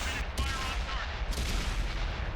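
Tank cannon fire in the game World of Tanks, with booming shots under a steady low rumble of battle noise, a couple of sharper reports close together, fairly faint overall.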